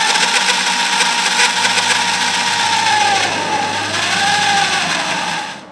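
Drilling into the intake manifold of a mini off-road mower, a loud, steady high-pitched motor whine that holds for several seconds with small pitch dips and then cuts off at the end.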